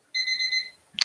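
An alarm goes off nearby as a bright, steady electronic tone held for under a second and then cut short by a sharp click.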